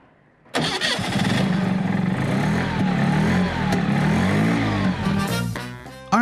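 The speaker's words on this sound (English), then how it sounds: "Humming underneath, almost like a turbine, was the 50-horsepower Wankel engine." A 50-horsepower Wankel rotary engine in a vintage NSU Wankel Spider cranks and catches, then hums steadily at close range with a smooth, turbine-like whirring tone and slight wavering pitch.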